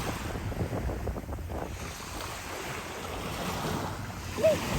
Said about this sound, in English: every now and then you get a wave that comes up a foot or two further than the average